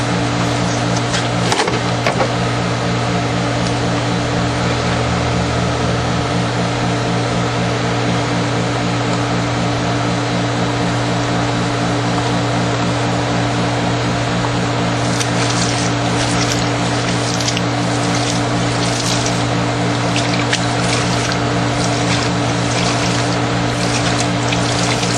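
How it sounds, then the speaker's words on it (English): A deep well hand pump being worked to draw water, a steady regular mechanical pulsing with a continuous hum throughout, joined partway through by splashing water, no voices present. "we're going to test the pump out"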